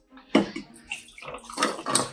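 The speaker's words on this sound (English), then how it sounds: "And I'm going to pour the tea over it." Hot tea poured from a jug over a container of ice, a wet splashing pour with crackles and clinks that starts sharply, dips, then swells again, close and alone.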